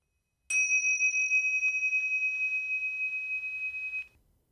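A meditation bell struck once, giving a clear, sustained pure ring that holds steady for about three and a half seconds before cutting off, sounding alone in near silence.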